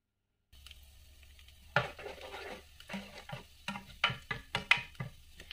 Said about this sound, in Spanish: Ahora lo vamos a empezar a sofreír un poquito.